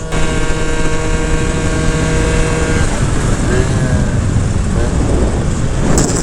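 A Honda Elite moped with a 120cc two-stroke stroker engine being broken in buzzes steadily while riding, its high engine note mixed with heavy wind rush, close to the rider, with faint voices.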